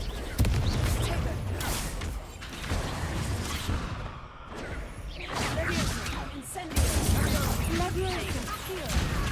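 Incendio and Confringo spells are cast in Hogwarts Legacy, with loud fiery blasts and crashing impacts in bursts over a steady rumble of combat noise.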